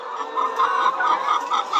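Highland Brown layer hens on a poultry farm cluck in a steady, overlapping rhythm, close and moderately loud, with several birds calling at once and no voices.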